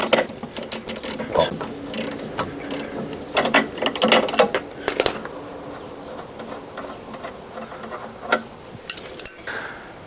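A ratchet clicks in quick bursts as it loosens the nut on an anti-roll bar link of a Peugeot 206, the rapid pawl ticking close and alone, with pauses and a few softer mechanical clicks between bursts.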